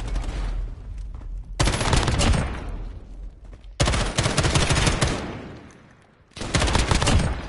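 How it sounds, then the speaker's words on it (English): Heavy gunfire from the Modern Warfare shooter game comes in dense bursts of rapid automatic shots with short lulls between them, loud and close, with no talking. "Dude, the gunfire is just ridiculous."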